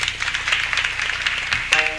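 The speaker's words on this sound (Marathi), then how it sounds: "महाराजांसाठी एकदा टाळ्या वाजवा बरं" Audience clapping for a mridangam player during a Marathi kirtan performance, a dense and steady patter of many hands that sounds fairly close and continues for the full two seconds.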